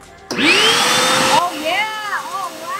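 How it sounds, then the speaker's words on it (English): A Lotus 4-litre wet and dry vacuum in blower mode switches on suddenly with a loud rising whine and steady blowing roar, then cuts out as a dog's high whimpers and yelps follow. "So this one should be like a blower."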